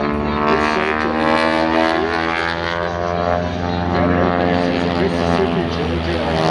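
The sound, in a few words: 1940 Boeing Stearman biplane flying over an airshow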